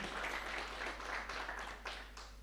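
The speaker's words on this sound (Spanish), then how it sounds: "Un aplauso más para el coro Nueva Alegría." Applause from a church congregation for a choir during a prayer service, a steady broadband wash of many hands clapping at once, fairly faint and distant, with no voices over it.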